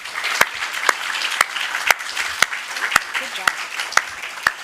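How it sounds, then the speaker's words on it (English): Sparse, evenly spaced claps ring out about twice a second over a low murmur of voices at a city council meeting, sounding like a few people clapping slowly rather than a full crowd. "Let's have a round of applause for that."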